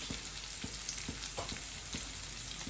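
Spices such as coriander powder, pepper powder and garam masala being mixed into a Chicken 65 marinade, a soft continuous wet stirring and squishing with faint rhythmic taps, close and steady, with no voices.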